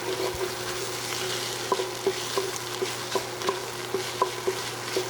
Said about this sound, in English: we're going to deglaze with this wine